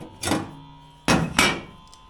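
Hammer blows flattening a piece of Porsche 924 bodywork metal on an anvil: three loud, sharp strikes, one early and two close together near the end, with no talk.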